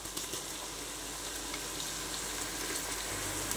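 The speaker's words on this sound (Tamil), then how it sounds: "இப்போ நம்ம இடித்த இஞ்சி பூண்டை சேர்த்துக்கலாம்." Crushed ginger and garlic frying with softened onions in a pan for tomato rice, giving a steady, close, continuous sizzle with no talking.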